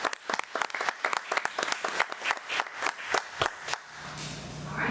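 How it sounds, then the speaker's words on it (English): Applause from an audience at a school district committee meeting honoring an elementary school staff member: dense clapping from many hands, fairly close, sustained for about four seconds before thinning to a low room murmur. "Let's give her another round of applause."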